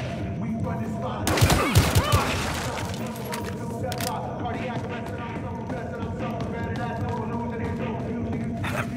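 Gunfire in Battlefield Hardline during a police raid, a dense burst of shots around the second mark over steady game noise and music, with voices talking throughout.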